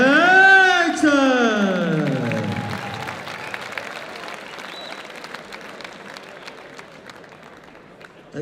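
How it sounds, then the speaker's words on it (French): At a K1 kickboxing event, an announcer's amplified voice with a rising, sung-out call leads into crowd applause and cheering in the arena, which trails off gradually into scattered clapping and murmur. "Je vous demande d'applaudir bien fort."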